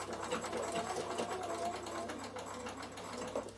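A sewing machine stitches wool felt for a door draught stopper, run by foot control, giving a steady fast mechanical whirr and needle chatter throughout, moderately quiet and close.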